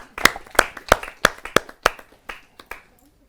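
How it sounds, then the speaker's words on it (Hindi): An audience at a Hindi kavi sammelan poetry event claps to welcome a speaker. About ten sharp, close claps fall in an even rhythm and then trail off. There are no voices. "आइए उनका जोरदार तालियों से हम स्वागत करते हैं।"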